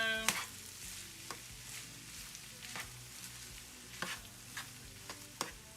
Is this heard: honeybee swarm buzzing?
no